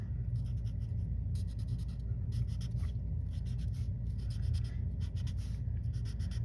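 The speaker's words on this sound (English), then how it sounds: "So just sort of scribble on each one of those." Colored pencil in a light olive shade scribbling on paper to fill in drawn leaves, with close, scratchy strokes coming in rapid bursts and short pauses over a steady low background hum.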